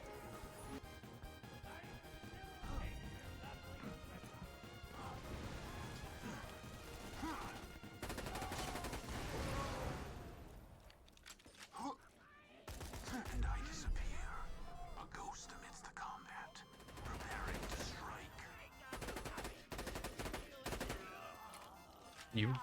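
Bursts of rapid Vlad Off sniper rifle fire ring out in a modded Borderlands game, mixed with game music and effects, with a voice talking over parts of the action.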